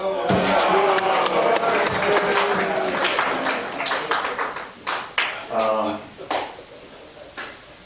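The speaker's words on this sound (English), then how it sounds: "Maybe a little short round of applause for George for that" A short round of applause from an outdoor community gathering honoring a long-serving local man, a dense burst of clapping that thins out into scattered claps with a voice speaking over it.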